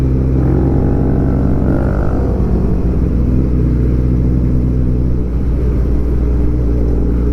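A Kawasaki ZX14R motorcycle cruises between BGC and Bridgetown, its engine a loud, continuous low rumble close by with wind noise and slight rises in revs.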